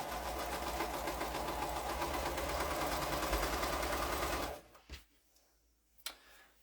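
Sewing machine stitching quilt pieces at a rapid, steady mechanical pace, running close and loud for about four seconds before stopping, followed by a few quiet clicks and handling noises.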